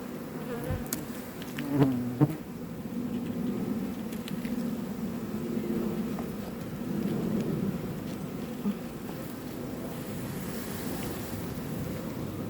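Honey bees buzz steadily in a dense, continuous hum around a hive, with a few nearer bees droning past close by.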